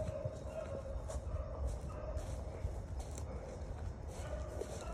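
Two beagles bay on a cottontail rabbit hunt in eastern North Carolina, with their overlapping, repeated howls sounding faint and fairly far off against a steady outdoor background.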